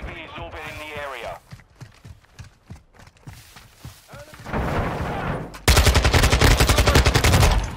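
Gunfire in Modern Warfare 2 beta multiplayer: spaced single shots under a talking voice, then a heavier stretch of shooting that ends in a loud, rapid automatic burst.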